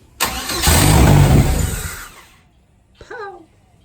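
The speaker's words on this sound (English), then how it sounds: "Well, it's starting. That sounds like a better starter." A car engine cranks and catches with a loud, abrupt roar that holds for about two seconds, then fades away as it fails to settle into an idle, and a person starts talking just afterward.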